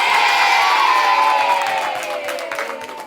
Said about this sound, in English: you win a round of applause